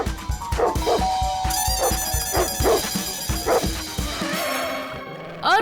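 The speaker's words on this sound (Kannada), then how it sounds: "ಅವ್ರು ನಮ್ ನಾಯಿಗಿಂತ ದೊಡ್ಡ ನಾಯಿ ತಂದಿದ್ದಾರೆ." An animated cartoon dog barks in a quick series of sharp, bouncy yaps, roughly a dozen in rhythmic bursts, set against bright playful music, with a brief whine near the end.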